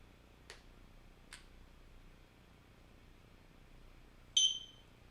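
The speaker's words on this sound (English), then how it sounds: "Press the sync button for 2 seconds until you hear a beep." A eufyCam 2 security camera gives a short, sharp electronic beep after its sync button is held, preceded by two faint clicks in a quiet room.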